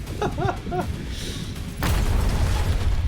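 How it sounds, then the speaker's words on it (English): In the video game Reverse Collapse, a sudden explosion booms loud and near, a broad roar that cuts in abruptly after a short stretch of rhythmic in-game sounds and holds steady to the end. "A sudden sound of explosion interrupts Sugar's attack."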